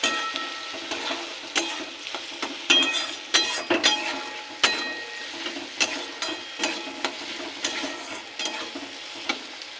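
Salt, turmeric and chili powder sautéing in a pan for a dal dish, with steady sizzling and repeated clinks of a spoon stirring against the vessel throughout, close and moderately loud, no talking.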